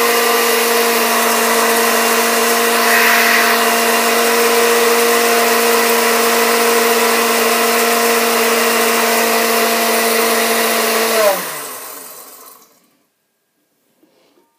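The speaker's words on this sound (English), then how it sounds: "So I just let this blend, I think, for like 20 seconds" Loud, steady whirring of a blender mixing a citrus salad dressing, holding an even pitch for about eleven seconds before winding down and stopping into silence.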